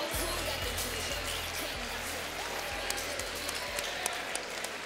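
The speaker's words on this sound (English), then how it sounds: "let's get a nice round of applause out here for both of these fighters" Spectators at a boxing event give a round of applause after the bout, with a steady spread of clapping and crowd noise over a low background hum, plus a few sharper claps toward the end.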